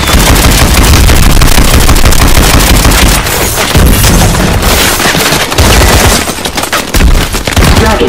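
Relentless heavy fire from a vehicle's main gun in Call of Duty Advanced Warfare, loud and dense rapid booming bursts with explosions, nearly continuous with only a few brief gaps.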